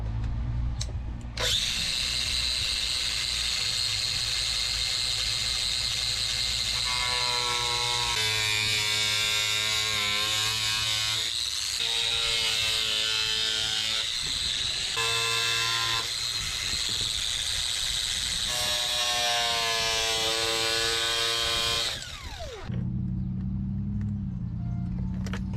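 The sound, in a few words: power tool cutting the center console of a Honda hatch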